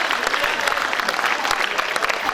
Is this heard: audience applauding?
yes